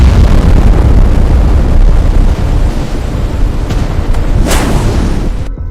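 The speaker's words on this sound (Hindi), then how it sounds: "फिर अचानक एक जोरदार धमाका" A massive loud explosion strikes the Iranian warship IRIS Dena at sea, a deep continuous roaring rumble that dominates throughout and gradually eases off.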